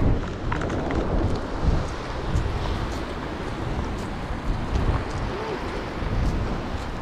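Heavy rain with thunder during a fishing trip, a dense, steady roar of rainfall with low rumbling swells running the whole time; no clear talk over it.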